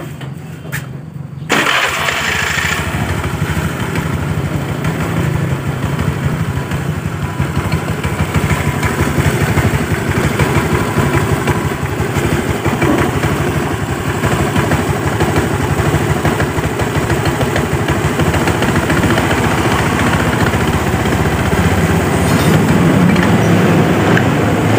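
An automatic scooter-type motorcycle with a rattling, jerky CVT fault cranks briefly and fires up, then settles into a loud, steady close-up engine run that continues unbroken.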